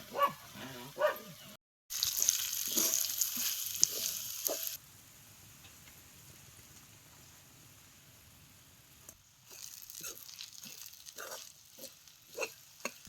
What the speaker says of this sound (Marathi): आता हे सगळं तेलात चांगलं भाजून घ्यायचं